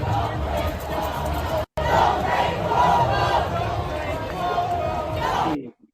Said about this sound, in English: This is the crowd of the No Kings protest